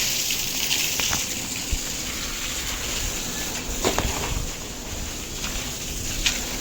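Water from a pipe sprays steadily onto cement-plastered house walls during second plastering curing, a continuous hissing gush with a few faint knocks and clatters.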